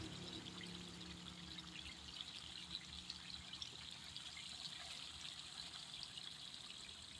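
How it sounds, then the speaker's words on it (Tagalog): Fermented fish paste (ginamos) pours into a cooking pan for a Visayan-style sauté with tomatoes, a steady soft trickling and sizzling wash running throughout at low volume, with no talking. "ibubuhos na natin dyan yung ating ginamos"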